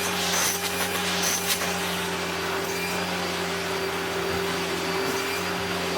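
A Hitachi Powerhouse CV-460D upright vacuum runs with its hose attached, giving a loud, steady motor roar and airflow whoosh from start to end, with a few faint rattles early on.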